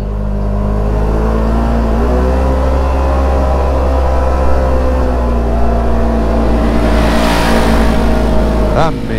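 Polaris General XP4 Deluxe side-by-side engine laboring up a steep muddy hill, a loud steady close drone with a slight pitch rise near the end, voices faintly mixed in.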